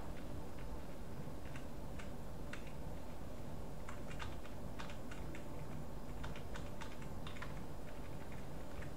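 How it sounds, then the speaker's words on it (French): Computer keyboard typing while playing the MS-Windows roguelike Castle of the Winds, quiet irregular key clicks in short bursts over a steady hiss, no talk. "Ça se jouait essentiellement au clavier."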